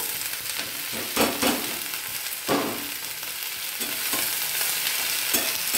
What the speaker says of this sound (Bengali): কলমি শাকটা ভেজে নেবো ভালো করে।